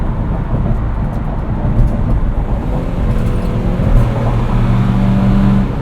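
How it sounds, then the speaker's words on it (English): Ford Transit racing van accelerating hard, heard from inside as a loud, dense engine roar with steady road and cabin rumble, rising slightly toward the end. "The acceleration really puts you into the back of your seat."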